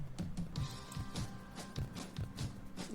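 Unprocessed drum room microphone from a studio stem at Telefunken Studios, with roomy kick and snare hits and washy cymbals in a steady groove, played alone without effects.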